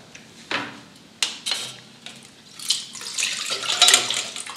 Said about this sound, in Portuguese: Agora que o frango já ficou macio, eu escorro a água dele, mas dentro de uma caneca